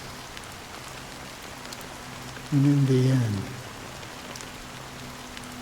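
Steady rain falls in Honkai Star Rail as a continuous soft hiss throughout, while someone speaks briefly over it.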